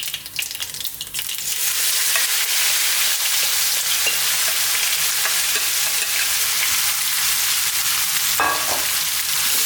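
Seasoned lamb dropped into a hot pan and frying over above-medium heat, a loud, continuous sizzle hissing steadily throughout with brief stirring scrapes and no voices.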